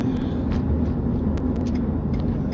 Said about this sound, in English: Hear the car a lot more.